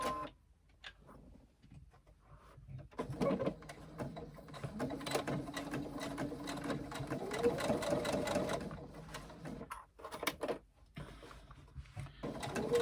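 A sewing machine runs a 3/8 inch seam across a tote bag, a continuous mechanical whir of stitching that starts after a short pause and stops briefly near the end before resuming.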